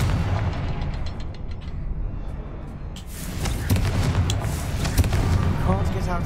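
Confringo fire spell blasting in Hogwarts Legacy, with several booming impacts and crackling bursts over a steady game soundscape and a voice talking.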